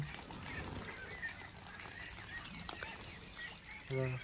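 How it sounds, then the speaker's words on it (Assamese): Ducks being herded into their pen on a farm without a pond, with scattered honks and quacks over a steady outdoor background and a louder call near the end. "সেইবাবে হাঁহখিনি আকৌ এতিয়া আমি গঁৰালৰ ভিতৰত এনেদৰে ভৰাই থওঁ দেখিব পাৰিছে"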